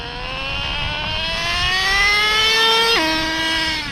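Traxxas Slayer Pro nitro RC truck engine warming up, a loud, close, high-pitched buzzing whine climbing steadily in pitch for about three seconds, then dropping sharply as second gear engages and climbing again.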